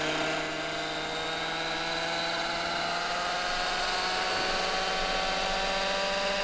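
A radio-controlled model helicopter flown with a Futaba FF9 transmitter, spun up with idle-up 1 engaged and held in a steady hover, giving a constant high-pitched whine of rotor and motor with multiple tones that shift slightly, close and loud, no voices.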